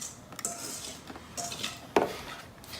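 A pan of lemon bars going into an oven set at 350, with a few light metallic clinks and scrapes, one sharper clatter near the end, and quiet rustling between them, close by and without talk.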